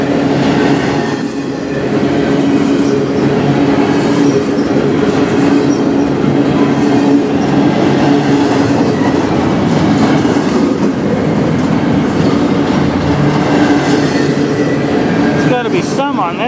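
Empty CN intermodal cars roll past close by in Sarnia, Ontario with a loud continuous rumble, rhythmic wheel clatter and some squealing, while a person talks over the passing train.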